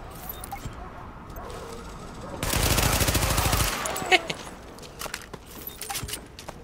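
Automatic gunfire in Tom Clancy's The Division, a video game: a dense burst of rapid shots lasting about a second, loud and close, then a few scattered single reports amid background game ambience and faint voices.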